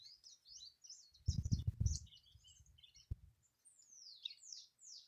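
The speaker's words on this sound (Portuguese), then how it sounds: "Olha, gente, é o canto dos pássaros." Small birds chirp and sing in high, quick bursts throughout, with a brief rumbling thump in the middle and a few descending whistled notes near the end, heard outdoors on a banana farm in the Pernambuco backcountry.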